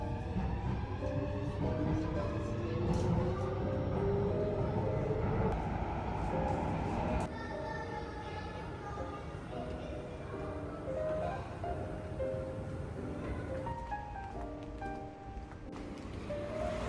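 A metro train carriage rumbles and hums steadily from inside, with a broad roar that drops in level partway through and faint tonal whines and squeals over the running noise.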